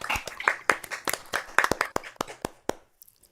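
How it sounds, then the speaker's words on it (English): A small open-mic crowd claps for performer Cheryl, a short burst of scattered, close handclaps that thins out to a few last claps and then stops. "One more round of applause for Cheryl"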